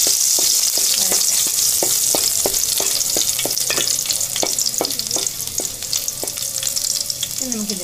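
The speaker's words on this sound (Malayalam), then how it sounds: "ഇതിലേക്ക് നമുക്ക് നമ്മൾ അരിഞ്ഞു വെച്ചിരിക്കുന്ന ഇഞ്ചി ചേർത്ത് കൊടുക്കാം, അതുപോലെ വെളുത്തുള്ളി ചേർത്ത് കൊടുക്കാം." Chopped ginger and garlic frying in oil for vegetable noodles, a bright steady sizzle up close punctuated by a regular series of quick metallic stirring taps against the pan, no speech.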